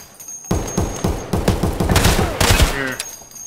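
Rapid bursts of automatic gunfire from an Ash-12 rifle in the video game Escape From Tarkov, loud and dense with booming reports, fast rattling volleys and brief pauses, with no talking.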